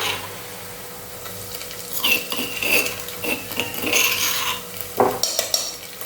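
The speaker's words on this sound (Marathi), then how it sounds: "आता आपण आपला कांदा पाहूया तर आपला कांदा छान गुलाबी रंगावरती झाला आहे परतून आता आपण आपला लसणाचा ठेचा टाकूया" Onion and crushed garlic are sautéed and stirred in a pan, with repeated scraping and clinking of a utensil against the metal and a faint sizzle underneath, growing busier partway through.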